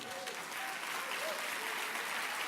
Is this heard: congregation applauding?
yes